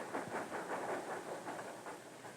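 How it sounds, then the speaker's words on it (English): A steam train arriving at Ohrid station rumbles and clatters in a low rhythmic pulse, fairly faint and steady, like carriages rolling slowly along the track. "He hears the train coming into the station"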